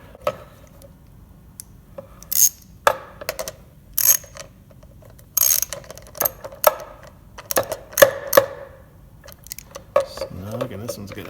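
A hand ratchet tightens bolts on a neon bombarding setup, giving bursts of quick metallic clicking with some clanks and knocks in between, close up, while a voice speaks intermittently.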